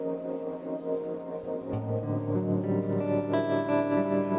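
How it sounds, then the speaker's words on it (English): Sustained reverberant tones from a SoundToys Superplate plate reverb swell into a dense, wide wash that thickens halfway through, with a wavering, pulsing texture from a Tremolator tremolo effect. "get a nice tremolated reverb there."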